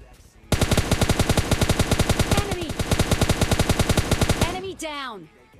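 Automatic gunfire in PUBG Lite rattles in a long rapid burst of evenly spaced loud shots lasting about four seconds, followed by ricocheting whizzes as it stops.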